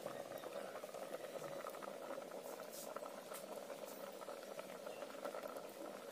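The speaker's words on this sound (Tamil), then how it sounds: "பருப்பு கீரை எல்லாமே நல்லா சேர்ந்து வெந்து வர ஆரம்பிச்சிருச்சு" Dal and drumstick leaves simmering together in a pot for village-style sambar, giving a faint, even bubbling hiss that stays steady throughout.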